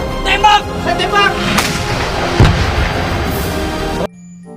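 RPG and gunfire hitting enemy tanks in a video game, with heavy booming blasts and bursts of shots over an excited voice talking, cutting off abruptly near the end.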